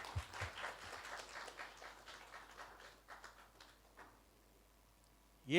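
A church congregation applauding during a sermon, faint clapping that trails off over a few seconds into near quiet, ending with a brief sharp noise.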